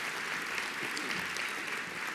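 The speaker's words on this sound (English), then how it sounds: "I just want to please give her a round of applause." Steady applause from an audience, a continuous wash of clapping at moderate volume with no voices standing out.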